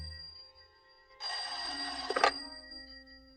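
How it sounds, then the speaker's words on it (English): A telephone bell rings as a radio drama sound effect, one loud sustained burst of ringing that starts abruptly after near silence and cuts off after about a second. "What's that? Sounds like the phone to me."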